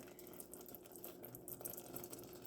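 A candy mixture of butter, corn syrup and water bubbles in a pot, a faint, continuous crackling and popping simmer at low volume with no talk.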